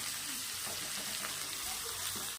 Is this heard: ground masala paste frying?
yes